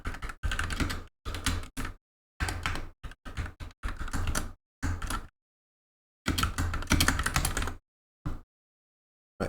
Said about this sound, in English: And just type it in.